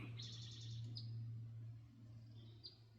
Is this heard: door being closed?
no